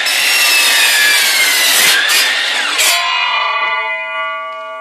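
A saw runs through the edges of wooden boards being trimmed for homemade car ramps, a loud, close, continuous rasping cut that stops sharply near the end, leaving a fading ringing tone.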